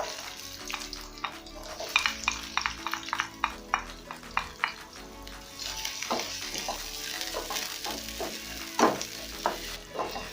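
Onions frying in about one and a half tablespoons of hot cooking oil, a steady close sizzle broken by repeated clicks and scrapes of stirring, with a faint tonal background underneath.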